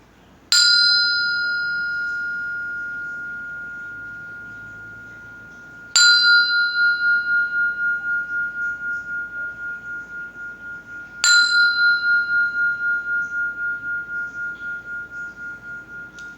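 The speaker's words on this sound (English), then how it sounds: "I'll sound this bell" A meditation bell is struck with a bell sounder three times at slow, even intervals, each bright ring sustaining and slowly fading before the next, with a pulsing shimmer in the decay over a quiet room.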